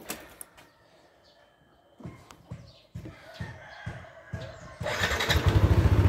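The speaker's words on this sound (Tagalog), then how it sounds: "So ayan, umaandar yung makina," A Yamaha NMAX V1 ABS scooter engine is cranked over after a few faint clicks and knocks, then catches and settles into a close, steady, pulsing idle that grows louder.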